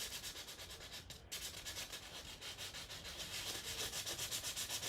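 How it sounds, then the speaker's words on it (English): Two-toned cardstock being rubbed gently to wear away its top layer, a soft, continuous scratchy rubbing in quick repeated strokes with one brief pause early on, close and quiet. "I'm just gently rubbing."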